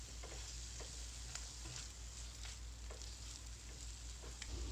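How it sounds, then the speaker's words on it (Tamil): Garam masala is stirred into paneer gravy in a hot pan, a faint steady sizzle with soft repeated spoon scrapes at an easy rhythm. "கரம் மசாலா ஆட் பண்ணிட்டு நல்லா ஒரு தடவை மிக்ஸ் பண்ணி விட்டுக்கோங்க."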